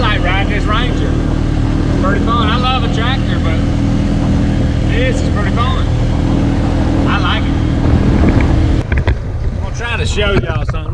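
A Ranger utility vehicle being ridden gives a steady, loud engine drone with a low rumble that holds throughout, then shifts abruptly near the end, while a person talks over it.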